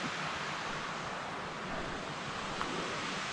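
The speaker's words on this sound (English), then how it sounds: "There's a stream, river right there." A stream or river beside a walking trail between Aberfeldy and Pitlochry in Scotland flows with a steady, even rush of water, heard alone at a moderate distance.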